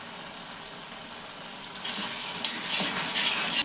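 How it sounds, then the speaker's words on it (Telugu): Tomatoes and garlic frying and being stirred in a pan for a tomato chilli chutney, giving a steady close sizzle that grows louder and busier halfway through, with scraping strokes of a utensil and no talk. "ఇప్పుడు మనం దాంట్లోకి వెల్లుల్లిపాయ వెల్లుల్లిపాయలు టమాటాతో పాటు మగ్గనివ్వండి"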